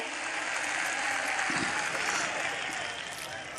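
A crowd at a mushaira, an Urdu poetry gathering in Mumbra, claps in a broad, continuous roar of applause that holds steady and dips a little toward the end.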